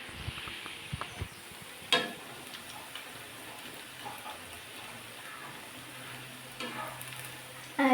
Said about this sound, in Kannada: ಇದು ಇವಾಗ ಚೆನ್ನಾಗಿ ಬೇಯ್ತೈತೆ, ಇನ್ನು ಸ್ವಲ್ಪ ಚೆನ್ನಾಗಿ ಫ್ರೈ ಆಗಬೇಕಿದು